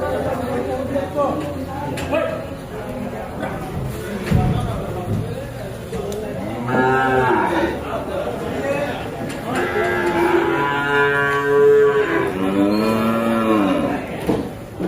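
Buffalo calves at a calf market moo loudly and repeatedly, long drawn bellows near and far over a steady background of people chattering.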